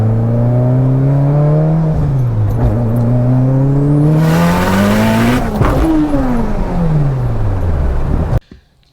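A Mitsubishi Evo X with a stroked 2.4L engine, big turbo and flex fuel accelerates hard from inside the cabin. A loud engine climbs through gears with rising pitch, turbo whoosh and shift breaks, then cuts off abruptly.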